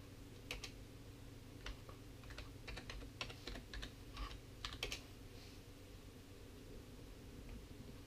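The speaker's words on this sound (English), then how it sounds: "I'll just get ready to fire in my password." Keys tapped on a computer keyboard of a Lenovo ThinkCentre E73 desktop while a password is typed, a quick irregular run of soft clicks over the first five seconds against a steady low machine hum, then only the hum remains.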